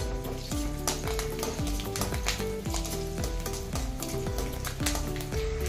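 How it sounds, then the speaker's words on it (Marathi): Garlic and ginger sauté in about two spoons of oil in a kadai for a soya chunk curry, with a continuous close sizzle over a steady background of strong musical tones. "त्यात आता मी हे लसूण, आले चांगले परतून घेणार आहे।"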